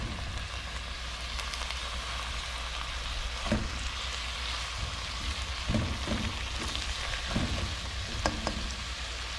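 Fish and shrimp fry in a pan for a fish stew with shrimp sauce, giving a steady, close crackling sizzle with scattered pops and spatters throughout.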